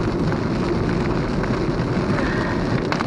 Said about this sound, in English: it is still raining though, folks